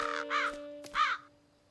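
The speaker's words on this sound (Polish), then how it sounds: "cztery wrony" Cartoon crows cawing from a children's animated show, two loud harsh caws with a brief third burst, clear and close against a steady background tone.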